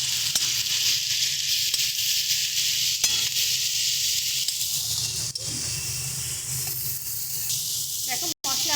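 Spices with chilli powder and salt fry in a pan for a tomato and onion amudi fish curry, producing a loud, steady sizzle and hiss with brief utensil knocks and a short break near the end.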